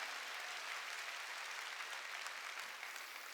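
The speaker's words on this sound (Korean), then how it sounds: "박수로 하나님께 영광 돌리고" Applause fills a Korean church's Sunday worship service, a soft, even rush of many hands clapping that sounds distant and continues steadily throughout without speech.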